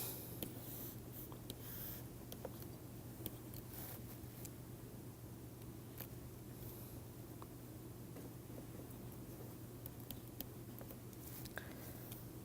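A pen or marker scratches across a surface in short strokes, sketching a graph against a steady low hum, faint and close with small taps scattered throughout and no talking.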